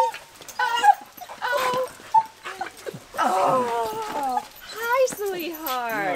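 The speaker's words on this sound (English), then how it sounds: "All the dogs ran out." Several excited dogs whimper, whine and yip in a greeting, with high rising cries close by, and someone talks to them warmly throughout.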